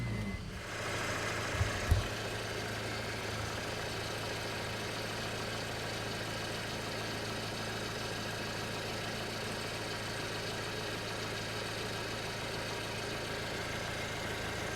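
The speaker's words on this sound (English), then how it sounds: "Crank it." A 2008 Honda Civic engine, suspected of a parasitic battery drain, cranks on a low battery with a steady, continuous mechanical drone that holds unchanged for about fifteen seconds, with no voices.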